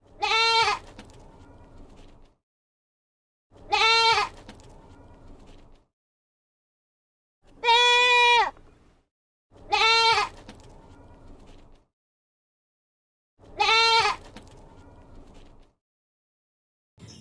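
A goat bleats five times, each cry loud, close and drawn out, with silent gaps of about two seconds between the cries.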